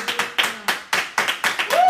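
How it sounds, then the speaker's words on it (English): Congregation at a charismatic church service clapping hands in a steady rhythm, about eight sharp claps spaced evenly, fairly close and loud, with a faint sung or spoken tone late in the clip. "Come on, clap your hands."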